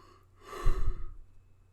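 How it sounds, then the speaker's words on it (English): A person yawns once, a drawn-out breathy exhale swelling in the middle and fading, close and fairly quiet with no talk. "I am sorry. I am yawning."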